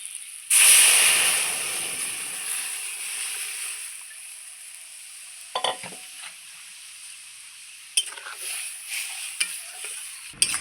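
Mango, chili and lentils in a hot pan: a loud burst of sizzling begins near the start and settles into steady frying, with a few sharp clatters of stirring later on.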